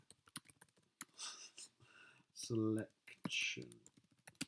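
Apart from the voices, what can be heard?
typing on a computer keyboard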